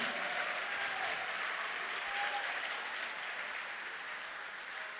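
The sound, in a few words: congregation applauding in church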